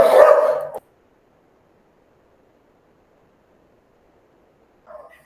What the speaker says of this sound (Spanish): es que ve perros en el balcón y se enloquece